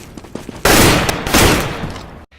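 Gunshot sound effect in the intro to a StarCraft 2 gaming broadcast, a sudden loud burst of rapid gunfire lasting over a second that ends abruptly in silence.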